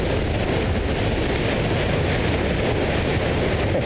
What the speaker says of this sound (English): check out some of the size of these waves